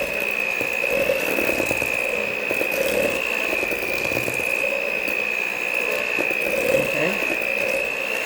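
An electric mixer runs on low through rum cake batter made with dark or light rum, giving a steady mechanical whir with a constant high whine and faint rattling, while a voice briefly speaks.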